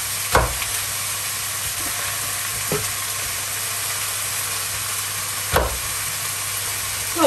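Onions fry in a pan with a steady, even sizzle, broken by a few sharp utensil knocks or scrapes as they are turned; no one speaks.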